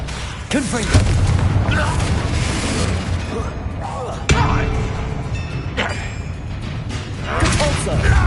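Hogwarts Legacy spell combat with a Confringo blast: several heavy booms and thuds burst out over a dense, noisy battle din, loud and close, while voices speak in between.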